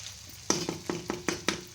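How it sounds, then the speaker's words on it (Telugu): Potato curry with curry leaves frying in a pan, a steady soft sizzle broken by about six sharp knocks and scrapes of a spoon stirring against the pan at a regular pace, close up. "ఎరమాకులు వేసినాక బాగా చక్కగా మెత్తగా వేగేదాకా తిప్పుకుంటా ఉంచుకోవాలన్నమాట"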